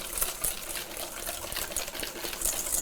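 Egg yolks and sugar are beaten together in a bowl, giving a faint, quick, steady tapping and sloshing of whisk against mixture with no voices.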